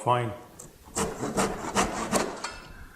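A hand saw trims a small wooden piece held against the fence of a bench hook, making a series of close, rhythmic rasping strokes after a brief vocal sound at the start.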